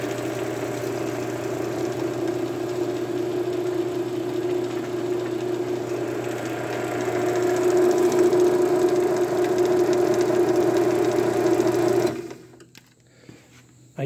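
A Craftsman 1/2 HP garage door opener runs the door down with a steady motor hum and a fast rattling chain whir, growing a bit louder midway, then stopping abruptly near the end.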